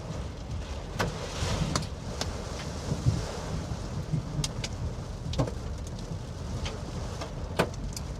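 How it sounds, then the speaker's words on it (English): Hail falls during a tornado-outbreak storm, a steady broadband patter with scattered sharp ticks of ice pellets striking, under constant wind and low rumble, with no talk. "Got hail falling now. You guys hear that?"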